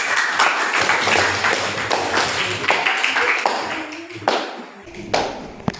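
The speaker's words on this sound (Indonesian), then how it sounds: "Oke, kasih tepuk tangan." Students in a classroom clap together, starting in a loud burst and thinning out into scattered claps and taps toward the end.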